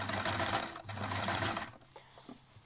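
Sewing machine with a bias binder foot stitching bias binding in a close, steady whir that winds down toward the end.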